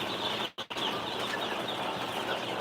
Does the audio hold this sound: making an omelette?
no